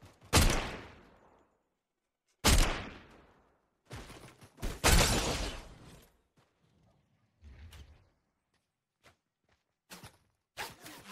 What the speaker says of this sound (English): Who is shooting? They're getting shot from multiple directions.